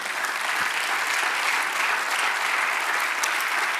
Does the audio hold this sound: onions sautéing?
no